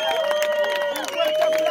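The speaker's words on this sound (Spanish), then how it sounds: "un fuerte aplauso a Tequila porque se estuvo rifando" A crowd at a rap battle semifinal claps and cheers in a dense, continuous burst, with voices and a sustained tone mixed into the din throughout.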